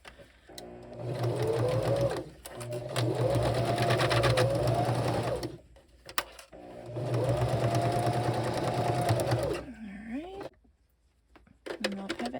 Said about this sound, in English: I'm going to sew up to that pin, and then I'm going to stop right there